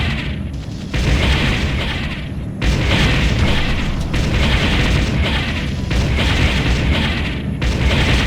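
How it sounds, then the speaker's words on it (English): Enemy structures explode in the real-time strategy game Ground Control, with repeated heavy booms and rumbling blasts over continuous battle noise, loud and close throughout. "Enemy structure destroyed."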